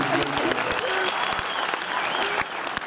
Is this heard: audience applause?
yes